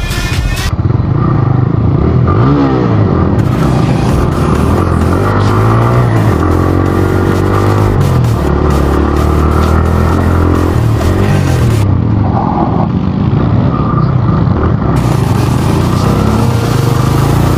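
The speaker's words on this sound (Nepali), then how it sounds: "तिनवटा बाइक सोही सोही सोही गएको गए भयो" Three motorcycles riding together, their engines droning loudly and continuously up close, with revs rising and falling and some rattling throughout.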